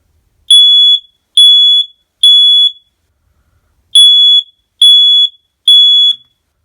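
Home smoke alarm under test sounds six loud, piercing electronic beeps, three evenly spaced, a short pause, then three more, with no talking.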